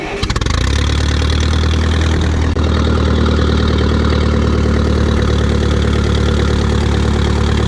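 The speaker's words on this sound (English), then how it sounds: "we're going to press the starter button here" A Massey Ferguson 35 Turf Special tractor engine is started with its starter button. It cranks briefly, then catches and settles into a loud, steady, throbbing idle.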